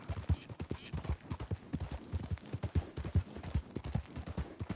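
Hooves patter in a quick, dense run of many close strikes as a horse moves at pace in the Red Dead Redemption II video game, a low rumble underneath and no talking.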